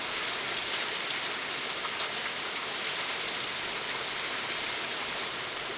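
A small waterfall where salamanders live pours steadily, a dense even hiss of falling water that holds at a constant moderate level without pause.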